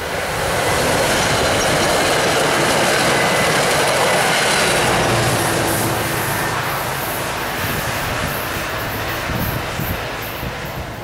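A train passing close by, with loud, steady rushing rumble and rattling wheels that fade slightly toward the end, and no voices.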